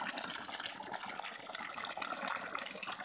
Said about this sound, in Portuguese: Tá fazendo a conta que ela tá puxando 20 litros d'água por minuto